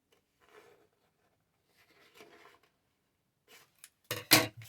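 Paper being cut with scissors for a junk journal, soft faint snips and rustles at first, then a few louder, crisper cuts near the end, close up and quiet otherwise.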